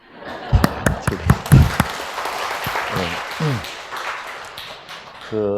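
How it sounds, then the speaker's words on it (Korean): Several sharp, scattered claps from a church audience at a Bible lecture meeting, close and distinct at first, then giving way to voices speaking. "근데 오늘은 왜 박수 안 쳐줘요?"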